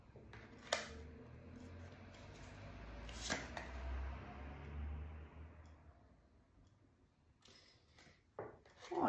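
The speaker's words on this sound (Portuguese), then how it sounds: "Vamos tirar aqui 3 cartas para entender" Tarot cards are shuffled and drawn for a reading, with soft riffling and sliding card sounds, a few crisp snaps and taps, heard close and quiet.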